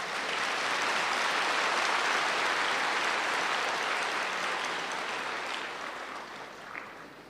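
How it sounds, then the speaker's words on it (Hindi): An audience claps steadily at a spiritual gathering, a dense, even patter of many hands that holds strong for several seconds before slowly thinning and fading. "और बड़े ढीली सी आप वो ताली बजा रहे"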